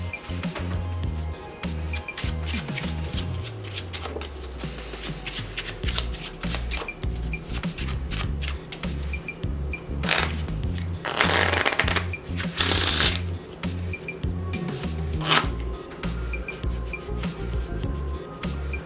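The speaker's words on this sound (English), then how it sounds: "Let's shuffle it." An ordinary deck of playing cards being shuffled by hand, a close, continuous run of riffling and flicking for a long stretch, with bursts of sharper snaps midway and no talking.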